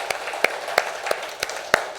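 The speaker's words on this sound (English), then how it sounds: "you guys deserve a huge round of applause from the entire" Slow, sparse hand claps at a biotech conference inaugural ceremony, six or so distinct sharp claps spaced roughly a third of a second apart over a faint room hush, fairly quiet and without speech.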